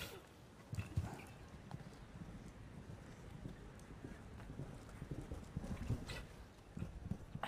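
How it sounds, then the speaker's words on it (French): Horse hooves thud on the arena footing at a show jumping Grand Prix, a faint irregular clip-clop of a few strides amid wind and distant crowd ambience. "Un cheval saute très haut."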